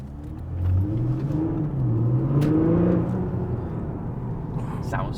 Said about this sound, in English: They're just angry sounding engines.